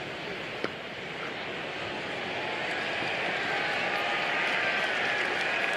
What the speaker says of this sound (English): Slightly ironic cheers from the crowd in here at the Keir Oval.